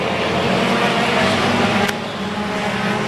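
Race cars accelerate together at a green-flag start of a Mid-Am night feature race, a loud continuous roar of engines from the pack with a brief sharp transient near the end.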